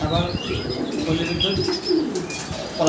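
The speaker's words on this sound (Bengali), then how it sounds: "খুব চমৎকার চমৎকার কিছু ফেন্সি কবুতর আছে দেখতে পারতেছেন" Fancy breeding pigeons at a wholesale pigeon dealer in Ashulia, cooing with bursts of wing flapping, fairly close, over a busy background with faint voices.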